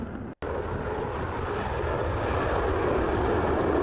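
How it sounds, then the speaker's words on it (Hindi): A B-1 bomber takes off from an RAF airbase in Britain, its jet engines a loud, broad continuous roar that builds slightly and holds steady after a brief cut near the start. "B-1 बॉम्बर ने ब्रिटेन की RAF एयरबेस से उड़ान भरी।"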